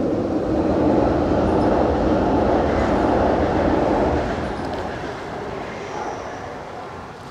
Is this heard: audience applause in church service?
no